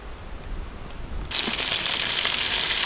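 Green chillies and onions sautéing in a hot pan, a low sizzle that suddenly swells into a loud, bright, steady frying hiss as the chillies are added, with no talking.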